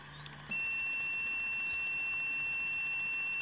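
A portable power station switching on with a single electronic beep, followed by a steady high-pitched tone that continues over quiet background hum.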